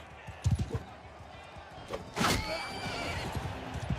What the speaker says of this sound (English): I'm trying to kill the horse.